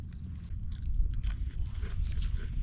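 A crunchy, salty snack topped with blueberry and goat cheese chewed close to the mic, with soft, irregular crunches and bites over a low rumble of background noise.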